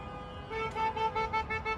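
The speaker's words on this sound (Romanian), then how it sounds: "Dă cu claxonul, de n-ai văzut așa ceva." Car horns honk in city traffic in Astana, with several short toots repeating in a quick, uneven rhythm at moderate distance and no talking.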